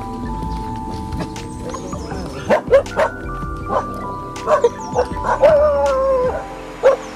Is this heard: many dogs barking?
yes